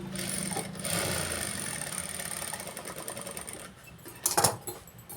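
A sewing machine stitching a readymade computer-embroidered blouse runs with a fast, even mechanical whir and rattle, dips briefly, then picks up again in a louder burst near the end.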